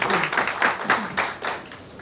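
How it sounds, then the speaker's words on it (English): Audience applause at a supply chain finance conference, a steady two-second patter of many hands clapping at moderate distance, with a few louder claps rising above the wash. "Can we have a round of applause?"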